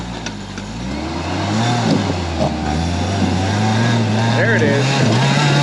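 4x4 rock crawler on bald sticky tires climbing the Three Hills Trail, its engine droning and rising in pitch as it labors upward, close and steady, with someone speaking briefly over it.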